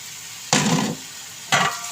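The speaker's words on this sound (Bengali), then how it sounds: "এই যে আপনার চর্বি দিয়ে দিচ্ছি। চর্বিটা সুন্দরভাবে কষাই নেব।" Beef fat dropped into a hot pan for a lentil chhakka dish, two short bursts of loud sizzling about a second apart, close by, with quiet pauses between.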